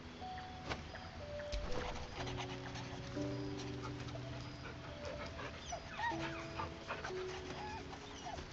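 A puppy in the video game Baldur's Gate 3 whimpers and pants in soft, high whines over a low ambient background, fairly faint and intermittent.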